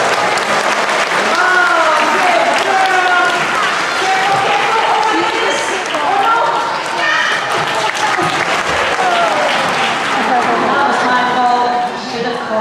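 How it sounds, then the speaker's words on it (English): Clapping from a group of people at a sea lion show, mixed with lively overlapping voices and cheering throughout. "you can give her a bit of a clap"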